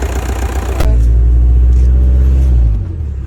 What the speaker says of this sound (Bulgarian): Колата има разни шумове, но това е от заминалия демпфер.